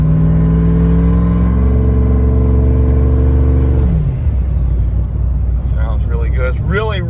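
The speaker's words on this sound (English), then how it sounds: "But you can hear the truck real nice and good still." A lifted Ram 1500 Hemi pickup with a 6-speed drones steadily while cruising, loud and close, then its tone drops and shifts midway, with strong wind rumble and a voice speaking toward the end.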